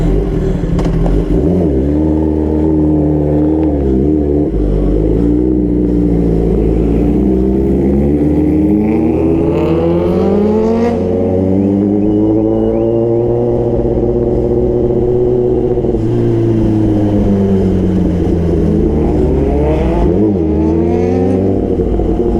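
A Kawasaki ZX-10R superbike revs loudly and continuously on a night run, its pitch rising and falling through repeated throttle sweeps, close and steady throughout with no talking.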